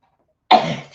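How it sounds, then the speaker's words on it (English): After a moment of silence, a single loud, abrupt sneeze bursts out close by and fades quickly. "I'm getting ready to sneeze here."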